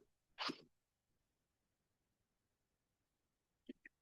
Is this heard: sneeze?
yes